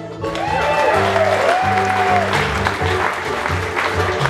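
An audience at a bluegrass concert claps steadily, a loud sustained round of applause lasting several seconds, with some background music tones under it.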